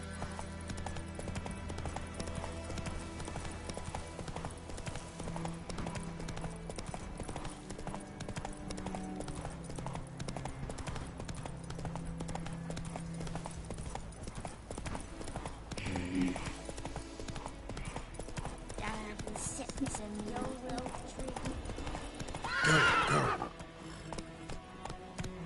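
In a video game, the horse Roach gallops with steady rhythmic hoofbeats under a constant wash of game ambience, and a brief loud neigh breaks through near the end.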